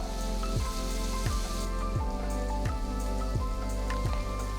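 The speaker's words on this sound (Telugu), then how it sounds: "సన్నగా తరిగిన ఒక ఉల్లిపాయ ముక్కలు మధ్యలోకి కట్ చేసుకున్న మూడు పచ్చిమిరపకాయలు వేసి వేయించుకోవాలి" Sliced onion and slit green chilies fry in hot oil in a kadai, giving a steady, close crackling sizzle with faint periodic clicks throughout and no talking.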